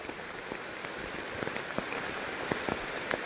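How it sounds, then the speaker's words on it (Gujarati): A heavy downpour falls outdoors as a dense, constant hiss of rain, with sharp drops and splats striking nearby surfaces at irregular moments; no voices are heard. "અત્યારે ધોધમાર વરસાદ પડાય છે"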